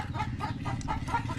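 Several chickens cluck close by in short, repeated calls at an outdoor Father's Day gathering, with no talking over them.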